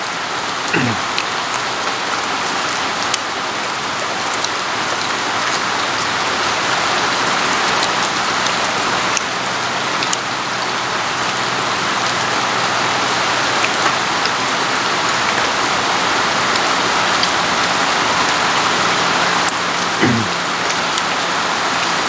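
Steady rain falls and patters on a surface, a dense, even hiss that continues throughout with no voices.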